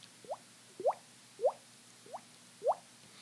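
A mouth imitates a water drip with five short, hollow plopping pops at a steady rhythm. The pops are close, clear and heard alone.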